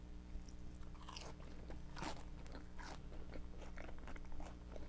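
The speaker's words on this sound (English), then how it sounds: "This is like crispy and then like so melty and cheesy inside." Close, crisp bites and steady chewing on a crispy snack with a melty, cheesy filling, crunchy crackles repeating over about five seconds with no talking.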